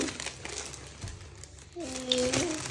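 A plastic grocery bag crinkles and rustles in short bursts as shopping is unpacked, while someone speaks over it and a voice is briefly heard.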